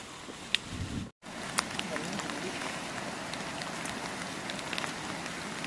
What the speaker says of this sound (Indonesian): Hujan. Kita pulang. Hujan guys.